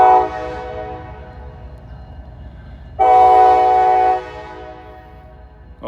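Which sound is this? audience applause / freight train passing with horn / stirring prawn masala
freight train passing with horn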